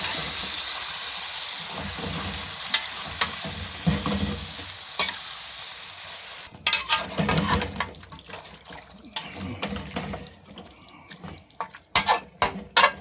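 Two kilos of octopus sizzle and crackle in a pan while being stirred, with steady frying hiss broken by repeated scraping and clattering stir strokes, loud and close.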